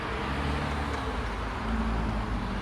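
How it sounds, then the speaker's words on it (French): A steady low roadway rumble from many passing cars fills the space, a continuous broadband drone with no distinct individual vehicles. "Il y a beaucoup de voitures, c'est beaucoup de bruit"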